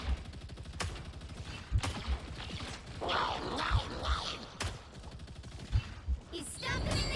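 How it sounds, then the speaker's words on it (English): Video game gunfire in sharp repeated bursts and single shots, mixed with mechanical clanks and crashes, with someone talking over the action. "I'm just randomly shooting."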